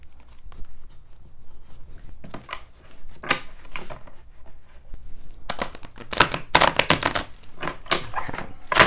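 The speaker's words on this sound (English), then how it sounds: "One more shuffle." Tarot cards riffle and flutter in several quick bursts, the last ones louder and denser, with soft taps between and a faint steady tone behind.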